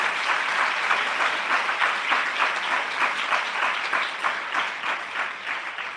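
Loud, sustained applause from a church congregation giving thanks during a testimony service, many hands clapping in a full, even roar that swells slightly and eases toward the end.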